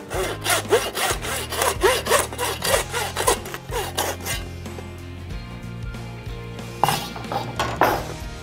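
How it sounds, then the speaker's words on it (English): A handsaw cuts through the ribs of a venison saddle with steady, rhythmic back-and-forth strokes, close and loud, pausing briefly before a few more strokes near the end. "mark the ribs down here, and then just take them off with the handsaw"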